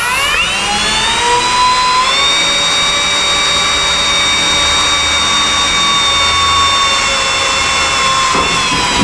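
Power drill with a step bit boring through aluminum for a truck's rear air diffuser: a loud, continuous high whine with steady ringing tones, close and unbroken for the whole stretch.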